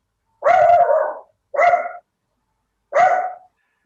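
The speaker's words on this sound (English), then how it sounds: "my youngest dog is barking like crazy" A young dog barks in three loud, close bursts, each a rough harsh bark with short gaps between, no other voices present.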